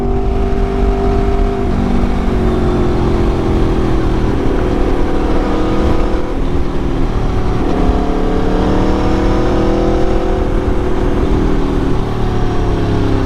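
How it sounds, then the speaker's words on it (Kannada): Vehicle engine accelerating, loud and close throughout, with rising and falling tonal whine as it revs and shifts, heard alone without talk. "ನೀವು ಆಕ್ಸಿಲರೇಷನ್ ಕೊಡೋದೇ ತಡ, ಗಾಡಿ ಹಂಗೆ ಬುಲೆಟ್ ಥರ"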